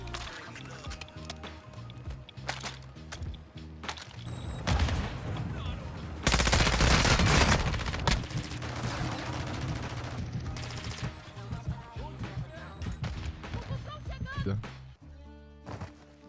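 Gunfire in the Call of Duty DMZ video game: bursts of automatic fire and single shots, loudest in a dense volley near the middle, with players talking over the action.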